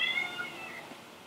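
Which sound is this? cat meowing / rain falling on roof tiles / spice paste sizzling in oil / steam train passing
cat meowing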